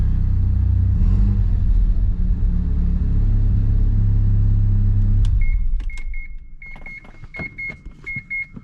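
Mazda RX-7 FD rotary engine idling steadily with a loud low rumble, then shutting off partway through, leaving quiet clicks and a faint ticking as it settles.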